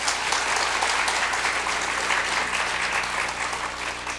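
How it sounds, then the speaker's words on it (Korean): A church congregation at a mothers' prayer meeting gives steady, dense applause for a newly appointed pastor, the clapping filling the room evenly and loudly from start to finish. "우리 새롭게 어머니 기도를 맡아 수고하실 이상순 목사님 큰 박수 보내주시고"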